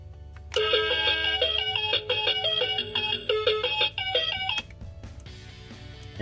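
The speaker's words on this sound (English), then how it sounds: "And you can change to 6 alarm sound." A JCC T831 silent alarm clock plays a bright electronic alarm melody, chiming in quick repeating tones for about four seconds, then cuts off, followed by a faint click.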